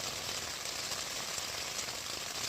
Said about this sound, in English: This rain hasn't stopped all night.